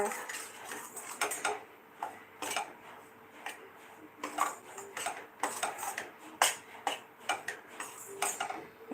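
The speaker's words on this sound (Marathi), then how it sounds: "अशा पद्धतीने वगैरे आपल्याला पीठ हे भाजून घ्यावं लागते" A metal utensil stirs flour being dry-roasted in a pan for karanji, giving irregular soft scrapes and clicks of varying loudness, with faint speech at times.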